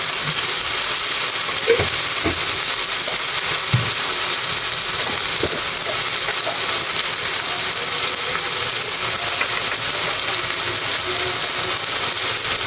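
Dry ground spices frying with ginger-garlic paste in a pan, a steady close sizzle running throughout with occasional soft clinks and stirring knocks, no talking.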